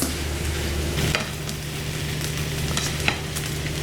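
Corn, black beans and onion cooking in a pan, a steady soft sizzle with light stirring scrapes throughout, no voices.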